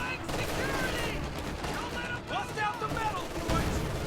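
Anti-tank gun fire in Company of Heroes 2 amid a busy battlefield, with repeated gunshots and booming impacts layered over continuous combat noise and overlapping voices.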